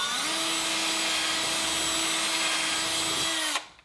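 Power drill fitted with a 5/16 bit enlarging a hole on a Power Wheels Mustang toy car, a loud steady whirring grind lasting about three seconds before the motor winds down and stops.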